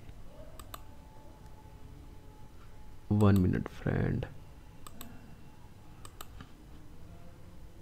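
A computer mouse clicks while editing products in a Shopify store: a few sharp, light clicks arrive in quick pairs, spread through the clip, with a person speaking briefly in the middle.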